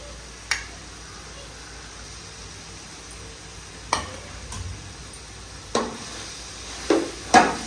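Chicken karahi with fresh coriander being stirred in a pan, a steady low sizzle running throughout while several sharp spoon knocks and scrapes against the metal cut through at intervals, close and clear.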